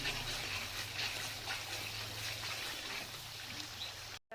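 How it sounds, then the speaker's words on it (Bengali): Water used to rinse spices poured into frying masala for a Bengali fish curry with taro, a soft steady trickling stream close by, with no talk. "এবার মশলা ধোয়া জলটাও দিয়ে দিলাম"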